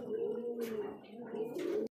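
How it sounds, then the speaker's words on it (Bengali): A female racing pigeon coos in a few low, throaty, rolling calls close by, with soft breathy bursts between them, ending abruptly. "এটা হচ্ছে মাদি কবুতর"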